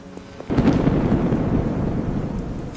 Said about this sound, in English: Thunder is coming.